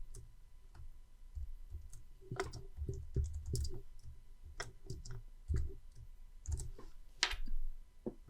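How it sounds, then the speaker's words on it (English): Computer keyboard keys are pressed for shortcuts in Excel, sharp irregular clicks and taps in short clusters, close and fairly quiet with no talking. "I can always use the keyboard shortcut to highlight to the right."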